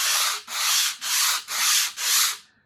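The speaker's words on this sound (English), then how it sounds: "and just sand" A strip of sandpaper is rubbed by hand over the curved wooden back strip of a steel-string acoustic guitar, making five steady rasping strokes in an even rhythm, close and loud, with no talk.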